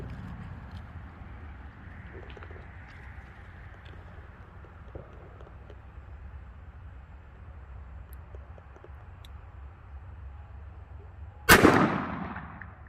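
A single loud shot from an S&W Model 69 .44 Magnum revolver fired through a chronograph at close range, a sharp burst with a short decaying tail that cuts through steady outdoor background noise.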